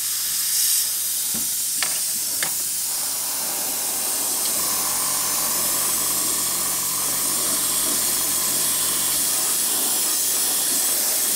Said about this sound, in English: it's coming through the airbrush beautifully